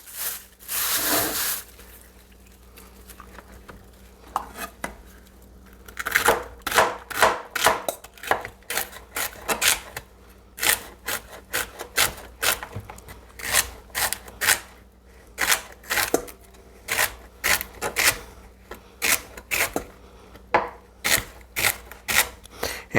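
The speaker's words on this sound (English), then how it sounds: "The next thing you're going to want to do is cut up your celery" A knife chopping two ribs of celery for homemade chili on a cutting board, with a run of sharp, rapid, close knocks that come in irregular bursts and continue steadily with brief pauses.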